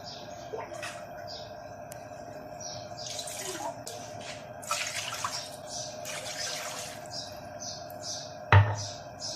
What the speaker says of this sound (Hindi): देचके में हम 3 ग्लास पानी डालेंगे।